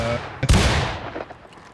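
A close, loud blast of artillery in War of Rights cracks out and rolls away into a fading rumble, with scattered rifle shots and faint voices shouting in the background.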